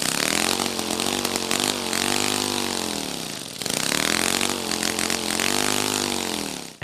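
Two Lego pneumatic engines in Lego enclosures running together, a loud, buzzy, rapid mechanical chatter close up that swoops down and back up in pitch twice as the speed dips and recovers.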